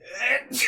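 A person sneezes during a casual podcast-style conversation, a quick sharp burst followed by a second short exhalation.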